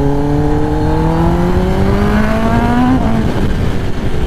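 A Kawasaki ZX-10R sportbike fitted with a new loud aftermarket exhaust revs hard and close, its engine note climbing steadily for about three seconds before dropping off into a rough, burbling idle.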